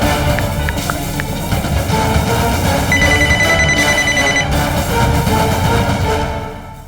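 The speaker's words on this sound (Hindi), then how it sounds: "मिलाइए ना उसे फोन जरा।" A phone rings during an outgoing call in a dramatized crime story, the ringing tone running steadily beneath dense, busy background sound before fading out at the end.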